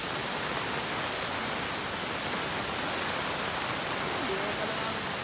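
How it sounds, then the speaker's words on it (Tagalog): Strong floodwater rushes during Typhoon Kristine, a loud, steady broadband roar of churning water filling the whole short stretch without a pause. "Ayan, sobrang lakasan ng baha."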